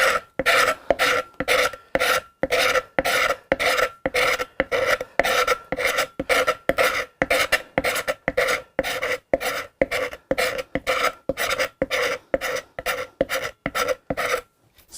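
A hand scraper rasps across the poplar or basswood body of a Hofner Galaxie guitar in steady, close, loud strokes, about two per second, repeating without pause and with no talk.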